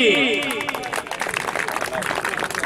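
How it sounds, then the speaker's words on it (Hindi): At a college sports prize ceremony, an announcer's short call gives way to a dense patter of audience applause that continues to the end, with faint chatter mixed in. "तालियां जी।"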